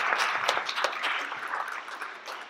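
Steady audience applause at a Rough Drafts 2023 writers' reading event, a dense wash of many hands clapping at even loudness throughout, with no talk over it.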